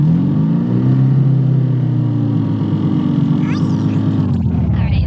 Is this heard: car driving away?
yes